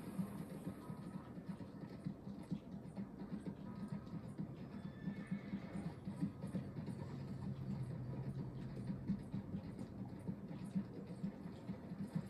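Horses in the video game Red Dead Redemption 2 whinny and clop their hooves in a quiet, distant game soundscape, with a faint steady rumble underneath.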